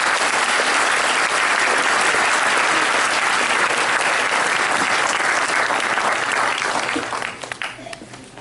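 A school Parents Day audience applauds loudly for a young girl who makes ornaments; steady dense clapping fills the room, then thins and tapers off in the final second.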